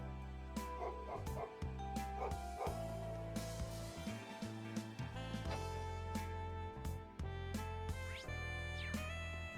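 A dog barks in the video game Trails of Cold Steel 3: several yapping barks scattered through a continuous bed of loud game music, with no talking.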